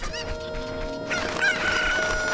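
Chickens in the video game The Legend of Zelda: Ocarina of Time, clucking and crowing in a pen; a rooster-like crow rises near the middle, with repeated clucks loud and close, no talk.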